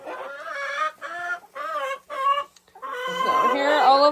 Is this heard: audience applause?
no